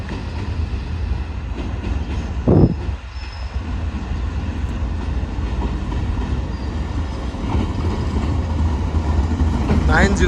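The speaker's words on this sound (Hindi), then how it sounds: "तो ये GU 40 के साथ ट्रेन फाइनली पहुँच रही है नवाबशाह रेलवे स्टेशन पर" Tezgam passenger train hauled by a GU 40 locomotive rolling into Nawabshah railway station, a loud continuous rumble of wheels and carriages with a brief sharp burst partway through and a faint squeal near the end.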